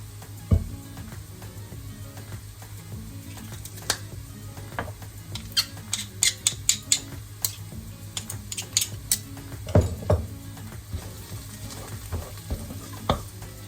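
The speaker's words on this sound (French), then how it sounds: "Je presse l'ail dans la poêle." Onions frying in a pan at medium heat sizzle steadily while garlic is pressed in, with a scatter of sharp clicks and scrapes from the press and utensil, close and fairly loud, no talking.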